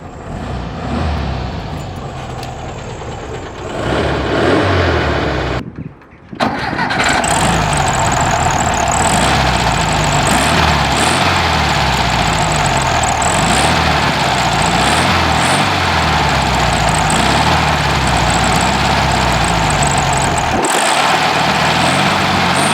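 A 1973 Volkswagen Beetle engine cranks, cuts briefly, then fires and settles into a loud, steady air-cooled idle running close by, with no talk.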